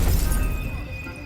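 A Stupefy spell impact in the Hogwarts Legacy video game: a brief, loud shattering crash at the start, trailing off into a lingering ringing tone and low rumble.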